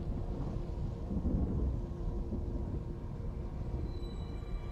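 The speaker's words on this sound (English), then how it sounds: "And it's raining." Steady heavy rain with a low rumbling wash in Death Stranding, a constant dense roar with no voices.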